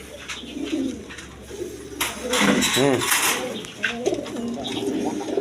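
A pair of Rajgolla pigeons coo in low, throaty rolls, close by, with the calls rising in the middle while someone talks over them.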